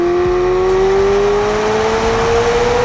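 A McLaren Elva supercar, an open-top roadster in Gulf livery, revving steadily upward at high rpm, a loud continuous engine whine climbing in pitch, close and alone.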